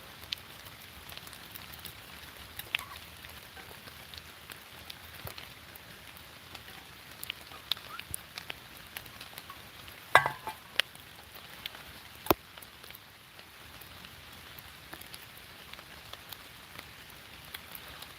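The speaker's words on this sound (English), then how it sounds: "that rain's hitting so many leaves on the way down" Steady rain falls on forest leaves as a soft, continuous hiss of patter with scattered sharper drips and taps, quiet and fairly even throughout, with no voices.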